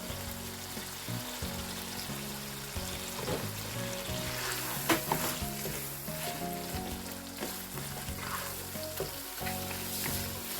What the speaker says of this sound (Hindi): अभी इस टमाटो पेस्ट के साथ हमने कीमे को अच्छी तरह कुक करना है, एटलीस्ट 8 मिनट्स के लिए।